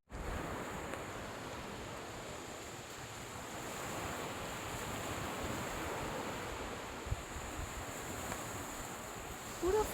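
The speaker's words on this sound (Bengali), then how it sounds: "সমুদ্রের উত্তাল, সমুদ্রের গর্জন, ঢেউ, বড় বড় ঢেউ, উত্তাল সমুদ্র" Rough monsoon sea on an empty beach near Bakkhali, West Bengal, with big waves roaring in a continuous loud wash of surf, mixed with gusting wind buffeting the microphone, plus a couple of brief knocks near the end.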